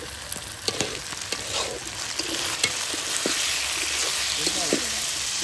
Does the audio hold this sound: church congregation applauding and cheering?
no